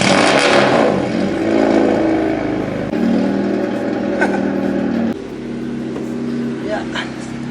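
A car engine cold-starting on a Kanjozoku-style build in Manila, settling into a steady, loud idle drone with a slight shift partway through, while people chat over it.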